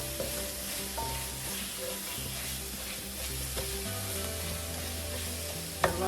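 Ginger and garlic frying in a pan as the base for a chicken curry, a continuous close sizzle with a low steady hum underneath and one sharp clink near the end.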